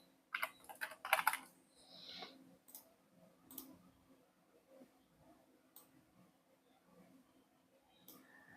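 Quick bursts of clicky keystrokes on a computer keyboard come close and fairly loud in the first second or so, then give way to sparse faint taps under a soft speaking voice.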